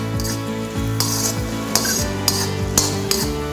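Onions and tomatoes sizzle steadily in a pan while a utensil scrapes and stirs, with sharp metallic clinks against the pan every half second or so, heard close and without talk.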